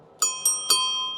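A large bell on an Urban Arrow family cargo bike rings three times in quick succession, each bright metallic ding close and loud, with the tone sustaining and fading after the last strike.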